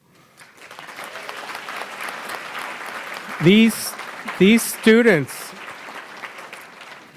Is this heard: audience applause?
yes